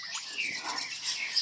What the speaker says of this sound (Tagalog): mga ibon, nagsisiawitan, o ewan kung nagchichismisan yung mga yan